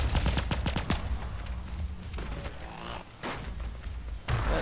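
Shotgun blasts ring out in a first-person video game, a rapid burst of sharp loud shots up front followed by a few scattered, spaced reports over steady game noise.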